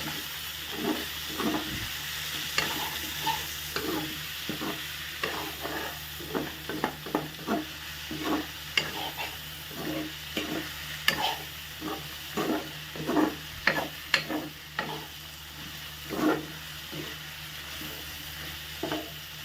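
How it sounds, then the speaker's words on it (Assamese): Onion greens and coriander being stirred in a pan for a boiled chicken dish, with a steady sizzle and frying hiss under a run of repeated scraping strokes from the spoon, close and moderately loud. "পিঁয়াজ পাতখিনি দি কেনে ধুনীয়াকৈ হিলাই দিছে"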